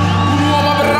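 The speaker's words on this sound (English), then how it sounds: "Wow, listen to the crowd" A video-game MMA fight crowd roars continuously in a dense, loud wash of cheering and shouting, with a commentator's voice mixed in.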